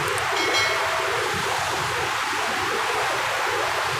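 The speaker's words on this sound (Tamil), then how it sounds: "தண்ணி போகிற சவுண்டு பாருங்கள், செமையாக இருக்குது" Water rushes continuously along a stream deep in a forest, a loud, steady hiss and splash close by with no voices.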